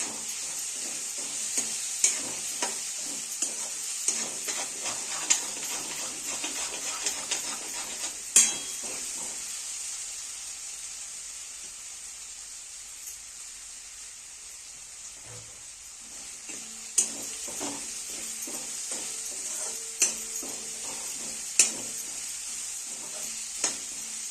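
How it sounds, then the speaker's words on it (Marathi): Masala paste for misal roasting in a pan, a steady bright sizzle running throughout with repeated spoon scrapes and occasional sharp taps against the pan's edge, quieter in the middle stretch. "सगळं भाजून घेऊया लई गॅस सोडायला नाही ते पेस्ट असल्यामुळं करपू शकतो"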